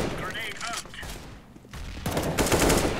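Gunfire from the video game CS:GO, loud bursts of rapid shots at the start and again near the end, with a brief quieter gap between them.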